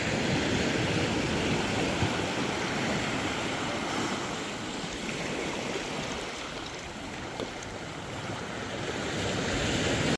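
Ocean waves wash onto a beach in Sierra Leone in a constant roaring surf, loud and close, with wind noise buffeting the microphone and gentle swells in volume.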